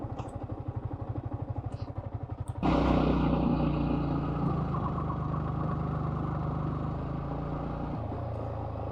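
A motorcycle engine runs on the road toward Konglak near Sajek, first a rapid rhythmic putter, then a louder, steady hum after a sudden jump in level, with no voices.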